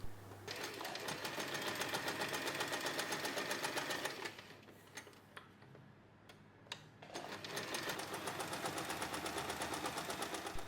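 A sewing machine runs stitching along the long edges of a folded fabric strip, a fast even clatter that stops midway for a few seconds of handling clicks, then resumes steadily, close and without voices.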